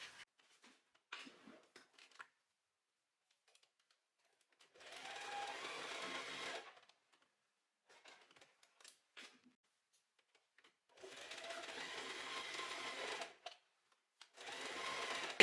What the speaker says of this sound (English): I'm just gonna sew along here now, and then I'm gonna sew along here